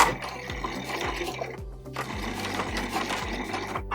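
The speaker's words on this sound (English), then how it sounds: "just stitch this folded spot over at the machine" A sewing machine stitches down a folded fabric hem with a backstitch, its needle thumping in a fast, steady rhythm close up, with a brief pause midway before it resumes.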